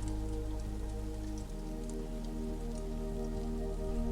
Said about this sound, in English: The sound of your breath joins the sound of the rain